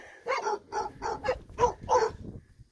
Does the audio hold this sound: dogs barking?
yes